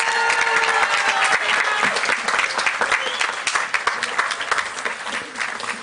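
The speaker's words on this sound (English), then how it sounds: "One more huge round of applause for Washington House" Graduation crowd at the Germantown Academy Class of 2024 commencement gives a big round of applause for Washington House, loud sustained clapping with a few faint cheers that gradually thins over six seconds.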